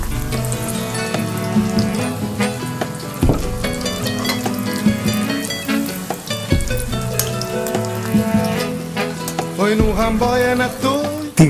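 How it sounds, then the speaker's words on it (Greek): Graviera cheese rolls fry in hot oil, a loud, dense crackling sizzle that bubbles steadily with small pops and flares, close up and continuous, with no talking. "Τηγανίζουμε και από τις δύο πλευρές για περίπου 4 και 4 λεπτά"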